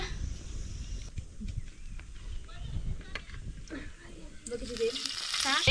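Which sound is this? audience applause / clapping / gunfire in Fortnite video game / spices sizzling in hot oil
spices sizzling in hot oil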